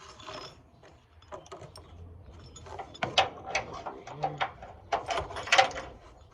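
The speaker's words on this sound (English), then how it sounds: "Get this bolt in." Bolt being ratcheted into the radiator support of a 1986 Ford F-150 during bracket and mount replacement, a series of quick clicking bursts growing louder toward the end, close by, with no talk.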